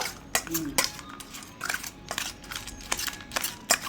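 Lay's chips chaat tossed and stirred in a bowl, a rapid run of crisp crunching rustles and spoon clinks against the bowl, close up and continuous.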